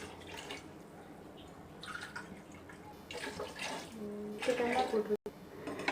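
Plain water is poured into a pot of mutton biryani in a few uneven splashing bursts that grow louder toward the end, over a low background with a voice speaking.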